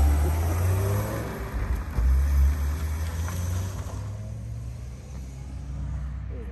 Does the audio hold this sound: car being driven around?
yes